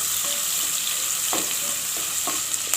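Onions sauté for sambar in a stone pot, giving a close, steady sizzle and crackle of frying, with a few soft scraping stirs in between.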